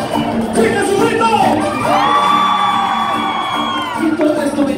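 Women in a crowd at a concert in Quito let out a long collective shout, loud cheering and whooping that swells and holds for a couple of seconds amid general crowd noise.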